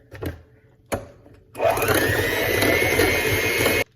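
After two brief knocks, an electric mixer whirs steadily for about two seconds, blending a dessert dip with vanilla beans before chocolate chips are added, then cuts off.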